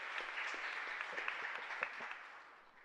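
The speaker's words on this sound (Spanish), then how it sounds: "para ellos creo que son merecedores de un fuerte aplauso" A congregation claps in a chapel during Mass, giving a short, soft burst of steady applause that fades toward the end.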